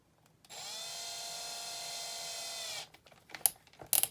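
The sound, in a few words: electric drill running on slow speed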